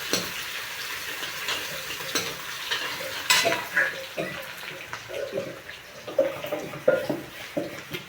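Sliced onions frying in a pan for chicken curry give a steady, close sizzle. Scraping and stirring clatter from the spoon breaks through it now and then.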